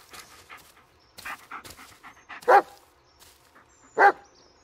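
A dog in the Blair Witch video game gives two sharp, loud barks a couple of seconds apart, with softer yips and panting-like sounds between them.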